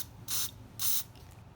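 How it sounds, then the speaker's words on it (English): Cleaner sprays out through the front jet of a Honda Shadow VT1100 carburetor in two short, sharp hissing bursts, close and evenly spaced, with a quiet pause after each. "it should spray out this front jet"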